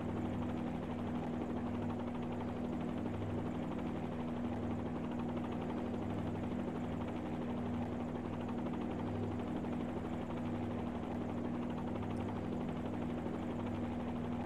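A steady, unbroken rotor drone from a helicopter hovering in a flight simulator, with a constant low hum and faint rhythmic beating, quiet and continuous throughout with no talk.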